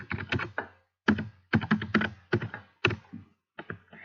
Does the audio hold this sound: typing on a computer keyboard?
yes